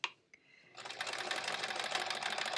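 Sewing machine stitching through many layers of quilt fabric, starting after a couple of faint clicks and then running steadily and close at an even, fast rhythm.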